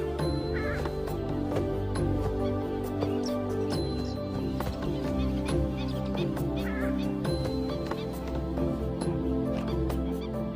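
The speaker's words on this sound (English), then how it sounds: "This is the purple swamp hen, also called the sultana bird, famed for its very loud, explosive call." Purple swamp hen calls loudly in a wild Thai wetland, harsh explosive squawks repeating over a dense backdrop of other birds and steady ambient noise.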